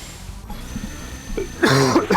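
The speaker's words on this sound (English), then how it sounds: "Oh dear, I coughed on the mic," A single sharp cough bursts close into a microphone, loud and rough, following a quiet stretch of faint background noise.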